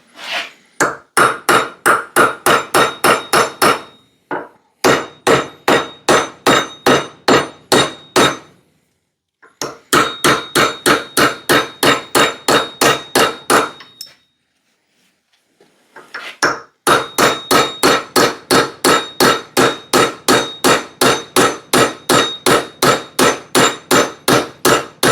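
Steady hammer blows knock at an axe handle to drive it out of a Connecticut pattern axe head, struck in fast, evenly spaced bursts of about a dozen hits, broken by short pauses, loud and close.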